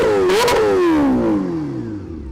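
A Kawasaki Ninja H2R motorcycle engine revs sharply once, then its high whine falls away smoothly as the revs drop, loud and close with no voices.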